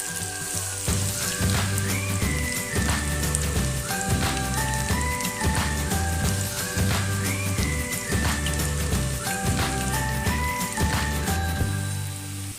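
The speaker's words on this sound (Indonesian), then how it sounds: "Kita goreng dulu tempenya ya Bunda." Tempeh frying in hot oil, a soft continuous crackle and spatter sitting under louder melodic background music.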